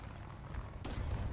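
Tank cannon fire in the War Thunder video game, with an M4A1 tank in the match: a single sharp, loud blast bursts out near the end over a continuous low engine rumble.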